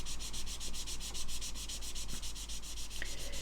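A 1000 grit sanding sponge rubs down a plastic scale model part in a steady, rhythmic back-and-forth rasp, close and continuous throughout.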